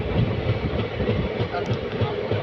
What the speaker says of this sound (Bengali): জাস্ট ঘন জঙ্গলের ভিতর দিয়ে যাচ্ছে ট্রেনটা